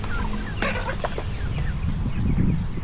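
Chickens clucking close by, several birds making short, overlapping calls over a low background rumble.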